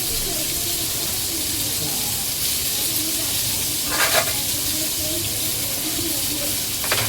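Fish frying in a pan in a home kitchen, a steady broadband sizzle running throughout with a brief burst of louder spattering near the middle; no talking.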